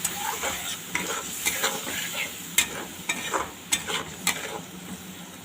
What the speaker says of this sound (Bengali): মশলাটাকে ভালোভাবে কষিয়ে নিন